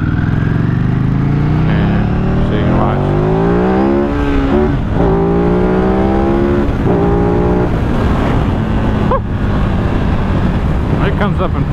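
A motorcycle engine revs and climbs through the gears, pitch rising and dropping with each shift, loud and close with heavy wind buffeting as the bike rides and accelerates.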